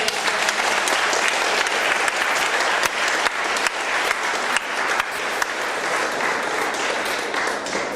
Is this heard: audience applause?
yes